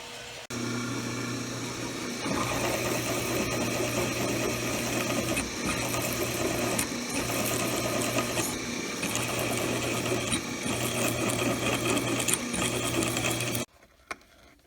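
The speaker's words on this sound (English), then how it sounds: "I'm cutting a piece of steel now" Steel stock being cut with a power saw in a shop, a steady loud mechanical whir running nearly unbroken for most of the time before stopping abruptly near the end.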